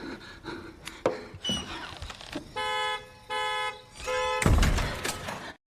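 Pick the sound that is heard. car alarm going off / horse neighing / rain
car alarm going off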